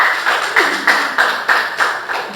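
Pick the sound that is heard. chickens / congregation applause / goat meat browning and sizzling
congregation applause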